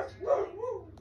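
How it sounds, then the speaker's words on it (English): A dog barks excitedly indoors in a home, a couple of close, loud barks with a whining yelp, alone without talk. "Excuse the dogs."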